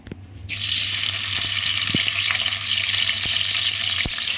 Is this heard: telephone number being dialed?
no